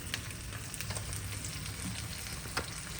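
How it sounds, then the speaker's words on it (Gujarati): Garlic and green chili frying in a pan for a spicy chutney, a steady soft sizzle with faint crackles running throughout, close by and without talk. "હવે નાખવાનું છે લસણ હવે નાખવાનું છે લીલું મરચું"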